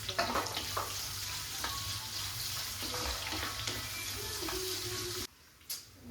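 Onions fry in a pan with fenugreek and curry leaves, a steady close sizzle with occasional stirring clicks, stopping abruptly near the end.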